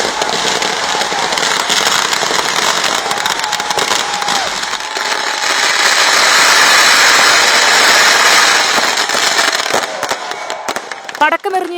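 Fireworks and firecrackers go off at a crowded midnight New Year celebration, a dense continuous crackle with scattered sharp pops and a rising whistle near the end, loud and close, over crowd noise and a voice.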